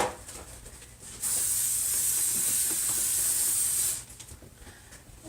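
A continuous hissing spray of cooking spray onto a baking pan lasts about three seconds, starting and stopping abruptly, close and fairly loud against quiet background.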